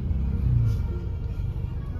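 Cars sit in a road traffic jam near Palghar, with a close, continuous low engine rumble that swells briefly as a vehicle revs, and no voices.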